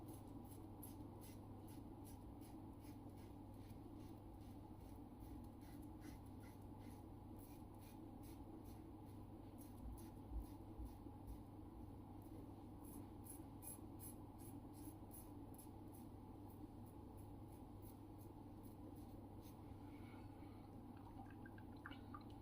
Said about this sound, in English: It's a good bit of audio feedback with this razor.